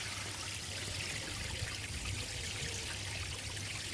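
A koi pond waterfall fed from a filter system at the back runs in a steady, continuous wash of trickling and splashing water, fairly close and unbroken, with no voices.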